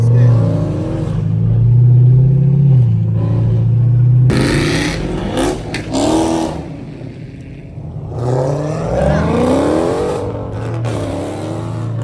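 A catless Camaro SS V8 with a six-speed revs and accelerates loudly, its deep engine note climbing in pitch through several pulls, close and continuous throughout.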